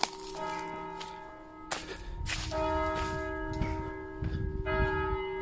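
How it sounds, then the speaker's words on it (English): Church bells ring near a medieval English graveyard outdoors, sounding repeated overlapping peals at a moderate distance over wind and ambient rustle. "Listen to those bells"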